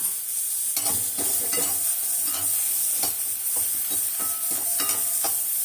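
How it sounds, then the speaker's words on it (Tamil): Grated coconut roasting in a pan for a vegetable kurma, with a steady dry sizzle under repeated scraping strokes of a spoon stirring it; close and fairly even throughout, no voices. "தேங்காவையும் கொஞ்சம் வறுத்துக்கிறோம்."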